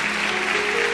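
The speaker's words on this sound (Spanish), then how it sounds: "Dale un aplauso al Señor" A church congregation applauds during a Spanish-language worship service, a steady dense wash of clapping lasting about a second with no voices on top.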